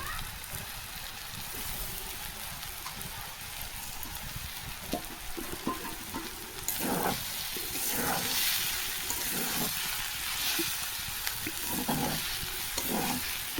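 Crushed garlic frying in a pan, with a steady sizzle throughout and scattered stirring scrapes and bursts that grow louder in the second half.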